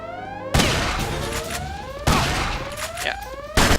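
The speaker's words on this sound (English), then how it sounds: "Line up for the shotgun blast." Three heavy shotgun blasts from the stealth action game Headhunter, each a sharp loud crack with a ringing tail, spaced about a second and a half apart among game sounds and no talk.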